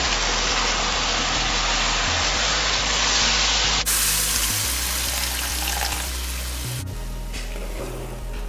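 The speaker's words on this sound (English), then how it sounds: "I'm gonna add the coconut milk." Coconut milk poured into simmering Bora curry with eddoes in a pot, a loud continuous hiss and sizzle that shifts in tone partway through and softens toward the end, with no talking.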